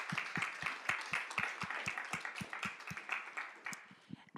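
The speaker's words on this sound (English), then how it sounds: "Can we go ahead and just give these gentlemen another round of applause?" Scattered applause from a small audience at a February event after guest speakers, with a few distinct claps in a loose, uneven rhythm that rises and thins out over a few seconds.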